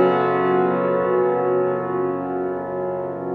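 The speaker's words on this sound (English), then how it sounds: "Paired with that, Jón has a perfect fifth in the left hand going to the octave" Piano left hand sounding a perfect fifth moving to an octave, a steady sustained chord that rings clearly and slowly decays, alone without voices.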